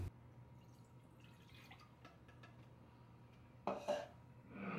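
Water for pizza dough is poured into a bowl in a kitchen, a brief splashing burst near the end after quiet clinks of utensils, with no talking.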